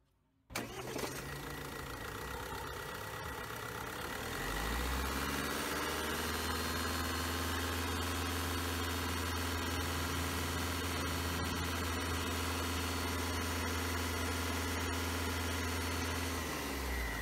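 A Tata Harrier XZ turbo diesel engine starts with a brief crank, then catches and settles into a steady, loud, low-pitched idle that drones on close by.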